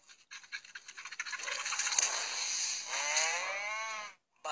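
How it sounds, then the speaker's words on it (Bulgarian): A cow moos close by in one long, strained, drawn-out call with a rough breathy texture, rising and wavering before cutting off, with no talk over it. "Вачо, оттек си довлекал тая крава, бе."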